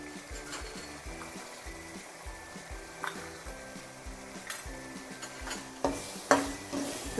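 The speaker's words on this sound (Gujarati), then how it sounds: "જો એકદમ સરસ મસાલો બધો મિક્સ થઈ ગયો છે અને તેલ પણ સરસ દેખાવા લાગ્યું છે" Masala with coriander-cumin powder is stirred in hot oil for sev usal, a soft bubbling sizzle under repeated metallic scrapes and clinks of a spoon against the pot, growing a little louder toward the end.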